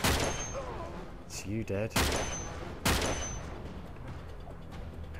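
Gunshots in Uncharted 3, a handful of loud, sharp cracks spaced a second or so apart, each with a short ringing tail, with someone talking briefly between shots.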